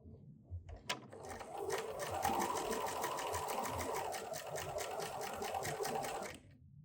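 Quilting sewing machine stitching a few stitches through joined fat quarter fabric pieces, a steady fast mechanical whir and rapid needle patter running for several seconds, close and alone after a few brief clicks.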